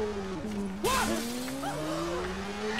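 In the video game Watch Dogs, a motorcycle engine's whine drops as it shifts gear, then climbs steadily. Brief screechy bursts ring out over the tone.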